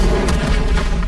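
Incendio fire spell cast in Hogwarts Legacy, a dense continuous roaring whoosh of flame with low booming weight, loud and sustained through the moment.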